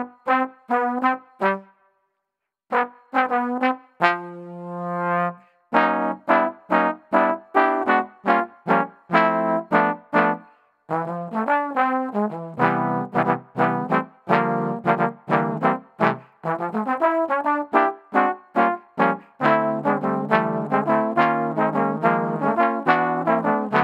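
A jazz instrument plays a lively run of short, crisply articulated notes with a few sustained tones, loud and close with brief gaps, and no voices.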